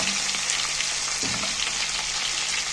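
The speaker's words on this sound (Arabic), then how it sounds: "نديروه في الزيت نحمروه" Food frying steadily in hot oil, a dense continuous sizzle heard up close with a faint stir partway through and no voices.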